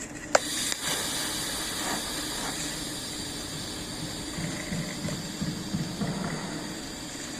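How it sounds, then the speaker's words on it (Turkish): Argon TIG welding with a side-to-side weave, filler wire fed generously for a wide bead: a steady, close hiss holds for the whole stretch, with one sharp click near the start and no talking. "Bu yüzden şimdi sağ sol yaparak bir kaynak göstereceğim size."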